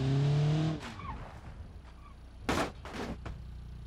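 A CVT-equipped car drifts in a driving game: a loud engine tone drops away after the first second, followed by brief bursts of tire squeal and skid noise later on.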